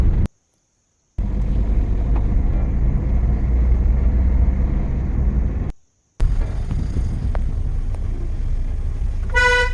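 Busy town street traffic in the rain on a Sunday, with a steady roar of vehicles and rumbling engines, a brief drop-out partway through, and a sustained car horn toot near the end.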